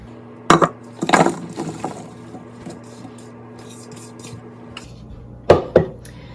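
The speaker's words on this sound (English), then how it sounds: "I'll actually just transfer it back to the original bowl to give it another mix" Seasoned potatoes being tipped back into the original bowl and mixed, a few sharp clattering knocks and scrapes in two bursts separated by quieter shuffling, over a faint steady hum.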